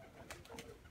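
Pigeons coo faintly somewhere overhead, a few soft, low, throaty calls in quick succession, distant and quiet against a dull background.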